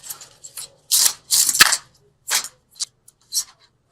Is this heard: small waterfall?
no